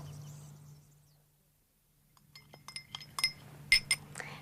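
Glass clinks as a drink is passed over in a quiet room, a cluster of small bright taps and chinks of varying loudness following a brief silence, with no speech.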